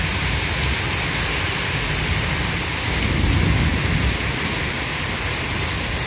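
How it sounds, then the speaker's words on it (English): Dense, steady downpour of heavy rain during a severe thunderstorm in New York City, broadband hiss throughout, with a low rumble swelling briefly in the middle like distant thunder. "just look at that rain coming down"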